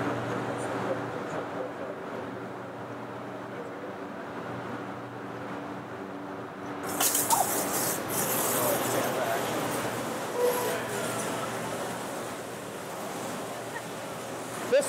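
IPX6 water spray test, a 12.5 mm nozzle delivering 12.5 liters per minute onto equipment under test, starting abruptly halfway through as a loud, steady rushing hiss after a quieter mechanical hum.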